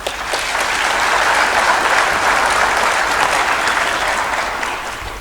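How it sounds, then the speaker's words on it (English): Applause from the crowd at a university graduation ceremony swells quickly, holds as a full, even wash of clapping, then eases slightly over about five seconds. "Can you have a hand of applause"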